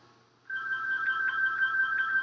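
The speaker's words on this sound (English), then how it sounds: "My phone's ringing." A wall-mounted home landline starts ringing abruptly, a steady electronic warble that repeats in short pulses, close and fairly loud, with no voices over it.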